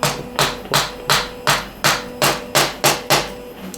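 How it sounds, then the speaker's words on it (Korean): A plastic or rubber mallet hammers a chainring into place on an e-bike fitted with a CYC Photon kit. About ten evenly spaced dull knocks land close and loud in a steady rhythm, with no talk. "손으로는 못 넣고 망치로 플라스틱이나 고무 망치로"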